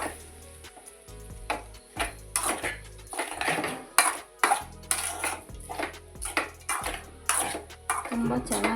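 Raw mango pieces being stirred into a spiced tempering for instant pickle, with repeated metallic spoon-on-pan clanks and scrapes in an irregular rhythm, close and fairly loud, with quiet sizzling underneath.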